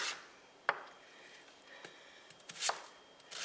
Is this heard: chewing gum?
no